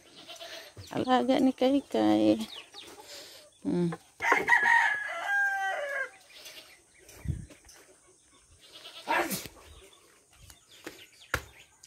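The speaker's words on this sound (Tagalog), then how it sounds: "Ating kambing." Goats bleat on a small family farm alongside a rooster's crowing, the bleats and crows coming in short bursts mixed with people talking nearby.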